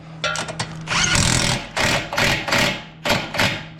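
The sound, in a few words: impact wrench spinning a nut onto rear shock bolt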